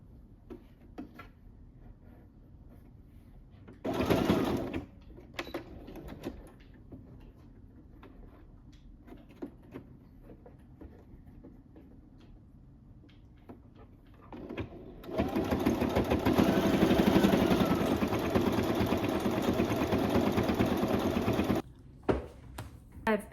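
A beginner's sewing machine stitching a bag, running in a short burst and then a longer steady whir, with quieter handling and fabric shuffling in between and a voice faintly underneath.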